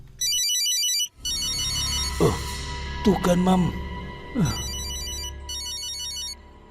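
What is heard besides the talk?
mobile phone ringing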